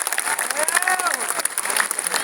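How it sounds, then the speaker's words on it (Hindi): A crowd at a Bageshwar Dham religious gathering claps together, a brisk, close wash of many hands with faint cheering and voices mixed in. "हम आपको लाखों बार इस बिटिया को ताली बजा करके धन्यवाद दें।"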